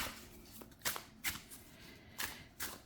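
Playing cards are shuffled in a few quick riffled bursts, each a short crisp flutter separated by brief pauses, close and fairly quiet.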